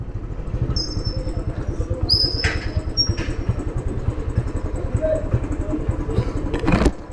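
Royal Enfield motorcycle engine with a charging fault, sputtering and struggling at idle on a hill ride, a steady low uneven putter with a few bright clanks and whines over it.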